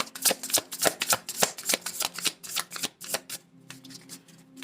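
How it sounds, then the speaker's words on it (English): Tarot cards are shuffled and drawn by hand, a close run of quick rhythmic riffling snaps and flutters that thin out into softer slides near the end. "I'm going to pull one more card"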